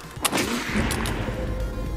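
Sharp bursts of video game gunfire crack out, a couple of distinct shots over a dense, continuous rumble of battle noise.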